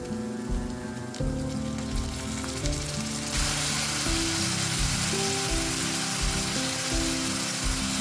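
Diced potato and cauliflower florets hitting hot oil in a pan, a steady, dense sizzle that flares as the vegetables land and keeps crackling throughout, with faint tonal hum beneath and no talk.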